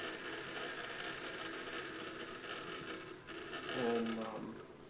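Hand winder being cranked to wind the rubber motor of an indoor free flight model airplane, a quiet steady whirring and ratcheting of small gears that continues throughout, with a brief squeak near the end.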